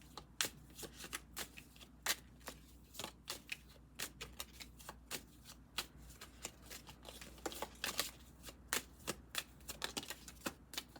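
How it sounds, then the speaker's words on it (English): Tarot cards being shuffled by hand, a quiet string of crisp riffling flicks and slaps in an irregular rhythm, close up with no voices. "We're going to do a live shuffle for this."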